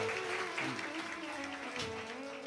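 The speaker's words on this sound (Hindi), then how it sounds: "जोरदार ताली बजाकर साधु।" Crowd clapping at a Shiv Mahapuran katha led by Pradeep Mishra in Sehore, a dense, sustained burst of applause lasting a couple of seconds and fading slightly toward the end.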